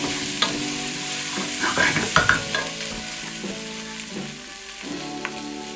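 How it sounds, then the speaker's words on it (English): Flour-coated beef being stirred in a hot pan for a slow-cooked beef and vegetable stew, giving a steady sizzle broken by scraping stirs and the occasional knock of the utensil, close up and heard alone. "So, add the flour that you've coated the beef in. Give that a stir in."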